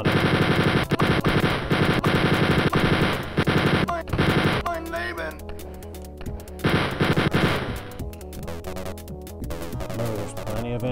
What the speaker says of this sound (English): Don't be stingy with that machine or with that chain gun.